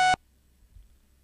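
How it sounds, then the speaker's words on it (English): A PICO-8 sawtooth waveform tone gives one short, loud, buzzy blip, which cuts off abruptly and leaves near silence. "the sawtooth is going to have sort of a buzzing sound to it"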